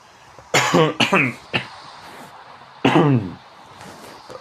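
A few sharp, harsh coughs close by: a quick burst of three, a pause, then one more heavy cough, with quiet between.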